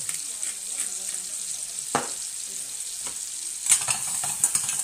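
Chicken supreme sizzles and simmers steadily in a frying pan, a constant close hiss broken by a few utensil scrapes and stirring knocks, with faint intermittent voice underneath.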